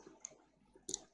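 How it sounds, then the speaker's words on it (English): A computer mouse clicks a couple of times while concrete material properties are being set up in ETABS structural design software, short quiet taps over near silence. "click OK"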